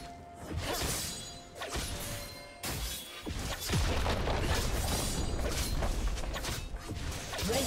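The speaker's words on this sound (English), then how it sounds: "Red team's turret has been destroyed. Blue team's turret has been destroyed." A turret crumbles in League of Legends amid crashing, booming and grinding mechanical debris, loud bursts separated by short gaps before a sustained rumble of destruction.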